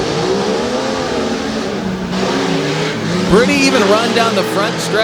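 Stock trucks race side by side down the front stretch at the Tough Trucks Challenge in Bloomsburg, Pennsylvania, their engines roaring steadily and rising in pitch, under a commentator's continuous talk.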